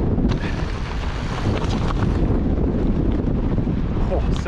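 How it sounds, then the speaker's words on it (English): Steady roaring wind buffets the microphone on a hard local mountain-bike trail, a dense low rumble with gusty bursts; there is no clear talking. "It's a little windy."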